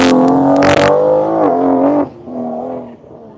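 A race car at an autocross event on Grissom AFB launches hard, its engine roaring loudly and climbing in pitch, then dipping and revving again as it pulls away, close and unaccompanied by talk.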